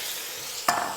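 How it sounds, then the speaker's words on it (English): Canned tomatoes go into a pan of frying onions and garlic, a steady sizzle that suddenly flares into a louder hiss as they hit the hot pan, close and without talk. "And then I'm going to add my tomatoes."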